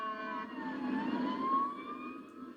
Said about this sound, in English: Sirens sounded again in Litchfield tonight.